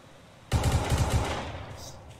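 Video game gunfire bursts in after a quiet start, a loud rapid automatic volley of shots in a steady rhythm that tails off into a fading rumble, close and alone.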